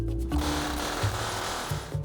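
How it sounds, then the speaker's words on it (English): A homemade hammering machine pounds texture into copper sheet metal with a rapid, loud mechanical rattle, steady and continuous with a few heavier thumps, no voices. "this little contraption I built here is what puts all the hammered marks in to make it look old and a little more textured"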